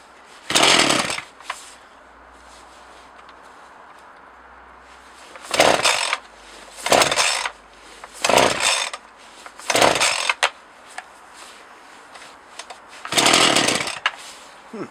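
A Partner 20 X Power chainsaw engine being started and running in short bursts, several loud rasping revs that cut out between quiet gaps of faint background noise.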